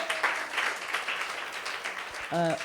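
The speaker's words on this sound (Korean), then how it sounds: "오, 박수 한번 쳐주시겠어요?" A church congregation applauds after a missionary's call for a round of clapping, a dense crackle of many hands that fades as a voice begins speaking at the end.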